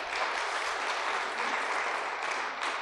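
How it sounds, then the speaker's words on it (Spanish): A church congregation applauds steadily, a fairly soft, even wash of clapping that carries on for the whole stretch with no talk over it. "Un aplauso para Jimena."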